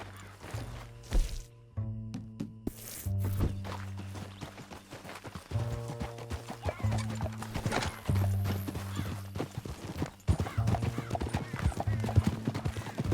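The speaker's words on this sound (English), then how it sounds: "Back on your horse, let's get after them." A horse's hooves clip-clop across ground in Red Dead Redemption 2, quick rhythmic strikes close by, with a whinny, bursts of game music and a voice speaking over it.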